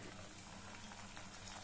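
Sweet corn kernels fry in hot oil for a crispy corn snack, giving a steady, even sizzle with soft bubbling, close and constant without any talking.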